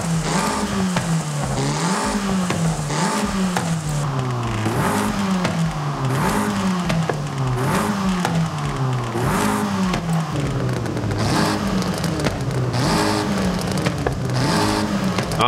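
The standard exhaust of a car in Forza Horizon 5 revs repeatedly, the engine note rising and falling in regular swells over a constant loud drone, with no talking.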